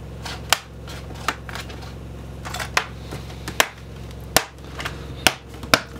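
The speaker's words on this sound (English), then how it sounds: "just push it down, clip it on, and then work our way" An Acer Aspire 3 A315-54K laptop's plastic base panel being pressed down and clipped onto the chassis, a series of about eight sharp separate snaps spaced irregularly over a low steady hum, close and clear.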